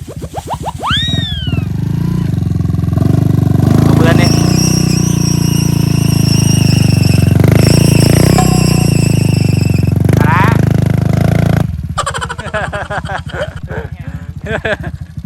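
A Honda Wave 110i motorcycle with a modified exhaust pulls away. Loud, raspy engine revs swell and hold for several seconds, then give way to a choppier, uneven rumble.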